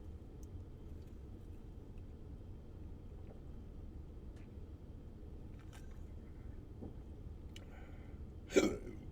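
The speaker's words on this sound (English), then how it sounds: "Pardon me, now I have the hiccups." A single short hiccup from a man, loud and close near the very end, after a long stretch of faint low background hum and scattered small ticks.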